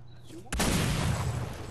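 Firework bursting in the Fortnite video game: a sudden loud blast followed by a sustained crackling, rumbling tail of sparks, with faint game sounds before it.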